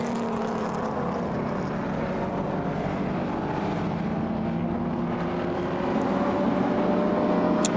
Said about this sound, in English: Alfa Romeo have very seldom made an engine that didn't sound exquisite.